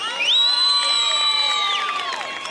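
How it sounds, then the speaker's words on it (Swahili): A crowd at a music anniversary celebration in Pokot cheers with a loud, sustained high-pitched cry lasting about a second and a half, over a fainter background of voices. "Makofi kwake"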